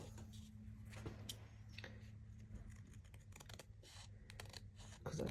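Scissors trim a white edge off a folded paper Christmas gift tag card, giving a string of short, quiet snips and clicks close by over a low steady hum, with no talking.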